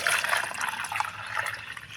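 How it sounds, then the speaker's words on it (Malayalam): Short stream of water poured into a container while repotting an adenium plant, a close, splashy trickle lasting a couple of seconds. "അതിലേക്ക് കുറച്ച് വെള്ളം ഒഴിച്ച്"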